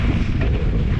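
Wind rushes and buffets over the microphone of a cyclist riding a trail at Flagg Park into a headwind, a loud, constant, close rumble with no voices.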